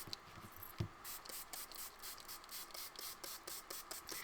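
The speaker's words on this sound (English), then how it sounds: "now what we want to do is spray our cardboard pretty liberally" Quiet, rapid spritzes from a spray bottle repeat in a steady rhythm, each a short hissing burst, spraying starch onto cardboard.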